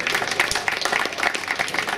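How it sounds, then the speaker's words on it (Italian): A crowd at a rally championship award presentation at Grobnik circuit claps for a young driver and co-driver, brief dense applause at moderate distance with rhythmic individual claps. "facciamogli un applauso."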